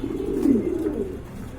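Pigeons cooing close by, a soft low throaty coo rising and falling over about a second, faint against a quiet background.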